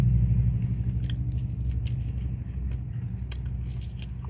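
Crunchy thin-crust pizza gets bitten and chewed up close, with scattered crisp crackles over a steady low rumble of background noise.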